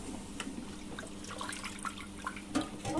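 Tap water runs steadily over a boiled egg being washed by hand in a sink, with a continuous close splashing wash and scattered small drips and knocks.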